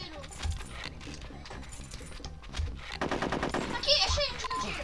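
Gunfire in the N64 game Conker's Bad Fur Day, with rapid machine-gun-like bursts rattling loudly through the second half over busy game sounds and music.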